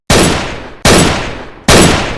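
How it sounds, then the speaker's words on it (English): Three sharp, loud gunshots fire in an even rhythm less than a second apart, each with a decaying tail, made as a special effect with household objects. "here's a gunshot without smoke."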